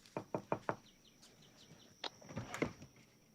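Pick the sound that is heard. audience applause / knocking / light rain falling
knocking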